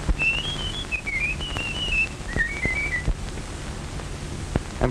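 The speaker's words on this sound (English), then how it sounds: "No two men could ever whistle exactly like that." A man whistles a distinctive tune alone, a wavering melody of several short phrases with pauses between, fairly close and clear over a faint background hiss.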